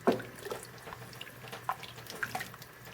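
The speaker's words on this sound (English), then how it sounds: "this is our additional 3 cups of water, bringing it to a total of 6 cups of water" Three more cups of water splash into a pot of simmering chili con carne, giving brief pouring and dripping sounds that come and go over a low, steady background.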